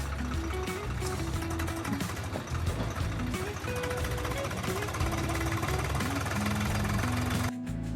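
A tractor engine runs close by in a village courtyard, with a steady low chugging knock that keeps going throughout before cutting off abruptly near the end.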